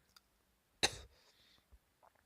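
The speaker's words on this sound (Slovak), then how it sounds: "Mám trošku kašlem." A single sharp cough breaks a quiet room, followed by a short raspy tail and a few faint small noises.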